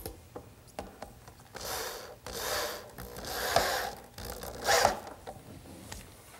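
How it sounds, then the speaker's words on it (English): Screws are driven to fix the front of a wooden wheelbarrow in place, giving a series of whirring, ratcheting bursts of varying length with short pauses between them, close by and moderately loud. "now I'm going to attach the front with a couple screws"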